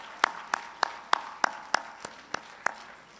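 Slow, evenly spaced claps from a single pair of hands at a college graduation ceremony, about nine crisp, separate strikes, fairly faint against a quiet room.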